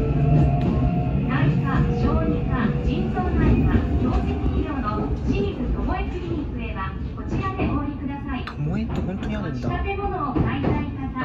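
A Shizuoka Railway two-car local train runs between stations, a continuous close interior rumble with faint rail clatter while an onboard announcement and passengers' voices carry over it.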